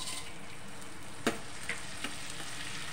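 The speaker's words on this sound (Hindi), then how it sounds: "गोंद को फ्राई करेंगे।" Edible gum (gond) fries in ghee in a kadai, a steady soft sizzle with a few light pops and clicks as it puffs, close and quiet with no talking.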